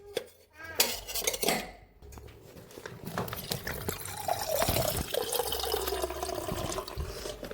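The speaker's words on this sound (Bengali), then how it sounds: "এই যে অ্যাকোয়াগার্ড থেকে জল ভরে নিলাম" Water filling a vessel from an Aquaguard water purifier in a home kitchen while curry cooks: a few utensil clinks, then a steady, close pouring stream that continues to the end, with no talk.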